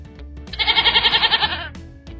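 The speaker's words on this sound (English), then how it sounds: "It's a goat." A goat bleats once in a loud, quavering, rhythmically wavering cry lasting about a second, close and clear, alone between brief quiet moments.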